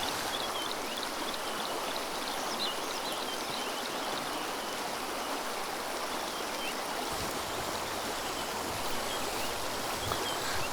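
The Morotele River flowing past a secluded riverbank lookout in Borakalalo, a steady broadband rush of moving water that holds even and unbroken throughout, with faint bird chirps over it.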